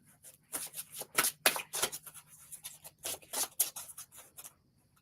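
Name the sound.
playing cards being shuffled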